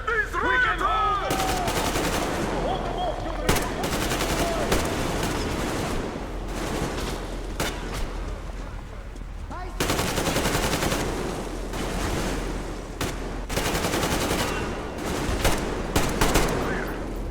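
Heavy gunfire from Metro Exodus rattles in sustained automatic bursts with sharp single shots between them, loud and close, while voices shout over the fighting.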